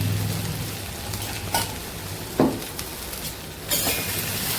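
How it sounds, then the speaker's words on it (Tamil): Vegetables with chili powder frying in a pan for a ridge gourd, brinjal fry and spinach dish: a steady low sizzle throughout, broken by a few brief louder scrapes or clatters of stirring. "கொஞ்சம் வறுத்து மிளகாய் தூள் போடுறேன்"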